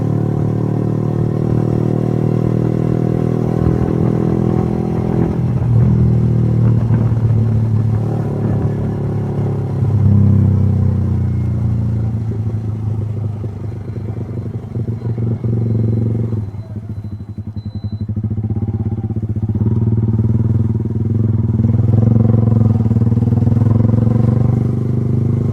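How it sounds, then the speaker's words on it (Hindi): Steady, loud motorcycle exhaust drone while riding on a road, with a continuous low rumble that swells and dips slightly as the throttle changes and persists throughout. "एग्जॉस्ट की साउंड कैसी आ रही है बताना।"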